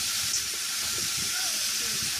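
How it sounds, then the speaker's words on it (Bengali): Chopped onions and potatoes fry together in hot oil, a steady close hiss and sizzle holding evenly throughout with a faint low rumble underneath. "এই পেঁয়াজ আর আলু একসঙ্গে ভাজতে দিয়ে দেবো।"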